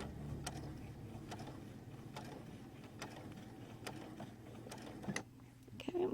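A sewing machine stitches across a chenille pipe cleaner with a quiet, steady mechanical whir and regular needle clicks, close and faint.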